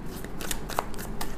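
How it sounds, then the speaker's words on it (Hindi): A deck of tarot cards being shuffled close up, a quick riffling flutter of card edges lasting about a second and a half. "आफ्टर 3 शफल मैं लूँगी 3 कार्ड इमीजिएट पास्ट"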